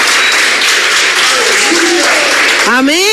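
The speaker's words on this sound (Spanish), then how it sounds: "vamos a dar un aplauso al Espíritu Santo." A church congregation applauding, a dense wash of many hands clapping steadily and loudly, with a voice speaking over it.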